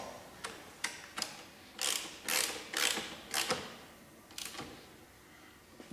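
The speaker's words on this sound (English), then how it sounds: "With the torquing down the rearward most mount." Bolts on the rearward exhaust mount of a 2021 Yamaha MT-09 being torqued down with a hand tool, heard as a series of short, close ratcheting clicks and bursts in irregular clusters, with no talking.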